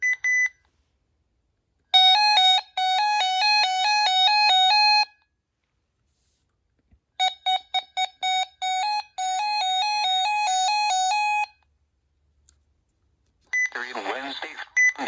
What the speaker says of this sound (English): So now let's check the siren.